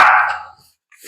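A pet dog gives a single loud, close bark that trails off, followed by a brief faint sound.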